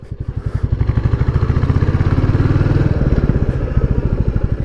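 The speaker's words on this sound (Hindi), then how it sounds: "आवाज़ देखो भाई बाइक की कैसी आ रही है" The single-cylinder engine of a Royal Enfield Classic 350 motorcycle thumps in a steady, rapid rhythm while riding, close and loud, with a slight change in pitch midway.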